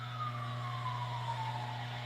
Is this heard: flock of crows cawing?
no